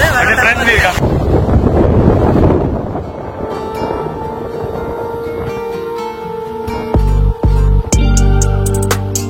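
Strong sea wind on a yacht off Dubai at night roars and buffets the microphone loudly for the first few seconds, then eases as steadier tones and clicks take over, with voices faintly present.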